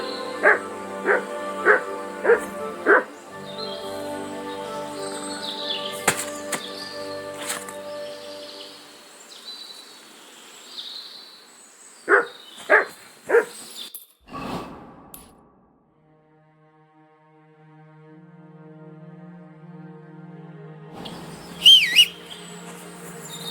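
A dog in the medieval game Kingdom Come Deliverance 2 barks several times in a short burst, then whimpers and whines at intervals, with faint birdsong and a whistle-like tone behind it and brief talk in between.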